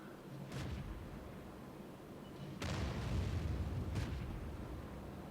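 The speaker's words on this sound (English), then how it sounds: "artillery's having a go" Two booming artillery shells from World of Tanks crash in sequence, each a heavy blast with a rumbling tail, heard at moderate distance against a low battlefield drone.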